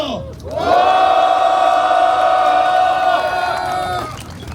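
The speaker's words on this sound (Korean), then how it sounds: "동지들의 큰 함성과 박수로 시작하도록 하겠습니다" Loud crowd of union members roaring and shouting together at a Seoul rally of finance and office workers demanding a president's removal, a sustained collective cry lasting about four seconds, close and dense.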